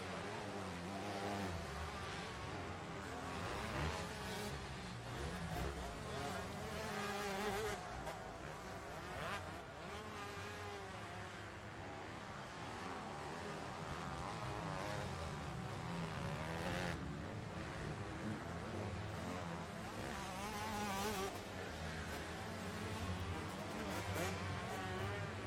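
Small high-performance 125cc motorcycle engines race in a junior beach enduro, a dense, continuous roar of buzzing, revving two-stroke engines at varying distances, rising and falling as machines pass, with faint crowd or commentary underneath.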